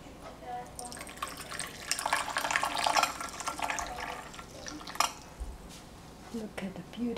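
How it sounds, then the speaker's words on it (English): Acai and goji berry tea is poured into a cup with a soft, uneven trickle and splash, mixed with light clinks of dishes and an antique spoon, all fairly faint. "Pour the tea."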